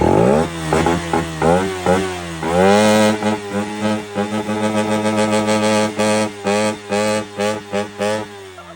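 A Suzuki Raider fi motorcycle engine fitted with ram air revs loudly up close, its pitch rising and falling through repeated throttle blips with a rough, throaty tone, and no talking.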